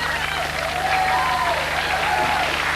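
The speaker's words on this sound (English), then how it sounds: "I tell you what, you're all cheering." A studio audience on a television talk show applauds and cheers in a steady, dense wash of clapping, with a voice talking over it.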